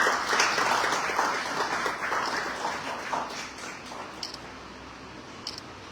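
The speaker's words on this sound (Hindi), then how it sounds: "जोरदार तालियां।" Audience applause at a school poetry recitation competition, a fairly dense round of clapping that is strongest at first and gradually thins and fades, ending with a few scattered claps and camera clicks.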